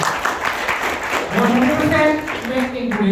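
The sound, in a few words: audience applause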